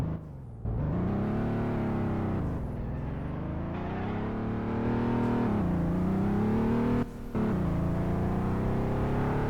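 A BMW X6 drives with a steady, loud engine hum that rises and falls with revs, plus a brief dip near the end, heard close with no talking.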